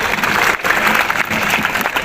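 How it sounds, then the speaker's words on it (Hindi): Audience applause for a donor at a cow shelter (gaushala) event in Kapadon village, dense continuous clapping from a crowd, loud and steady throughout. "जरा ताली बजा दो भाई साहब के लिए"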